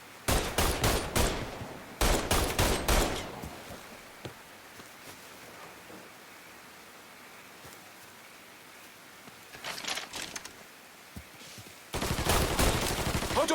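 Rapid automatic gunfire in the Mafia III video game, loud bursts at the start, a quieter stretch with a few distant shots, then another heavy volley at the end.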